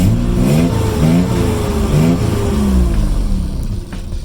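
A Nissan Z engine fitted with a new intake filter revs several times in quick succession, loud and close, with rhythmic rising and falling pitch.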